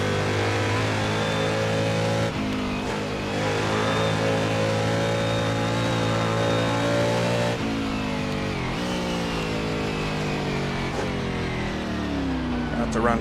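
Historic sportscar race car engines in Assetto Corsa blare steadily at a Riverside race, rising in pitch between several abrupt shift dips, with a voice talking over the engine noise.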